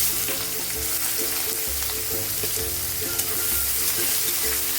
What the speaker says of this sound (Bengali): পেঁয়াজটা দিয়ে পেঁয়াজটা প্রথমে হালকা ব্রাউন করব